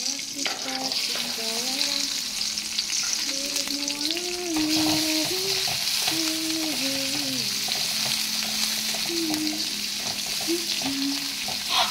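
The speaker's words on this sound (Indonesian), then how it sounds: "ini keponakan goreng tempe tepung" Battered tempeh fries in hot oil with a steady, loud sizzle throughout, while a person speaks or hums in the background.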